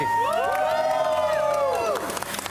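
Studio audience on a live morning television show bursts into loud cheering and whooping, high sustained shouts over a crowd, tapering into scattered claps near the end.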